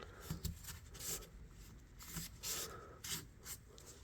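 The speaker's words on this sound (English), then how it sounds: "Just using my 600 grit. Get down in there and I sand on it." A rusted pocket knife blade sanded by hand with 600 grit sandpaper, producing faint, close scratchy rubbing in short irregular strokes with brief pauses.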